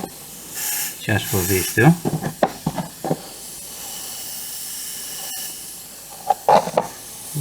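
Airbrush air compressor running in the background as a steady hiss while miniature asteroid bases are painted; a person talks over it in short phrases near the start and again near the end.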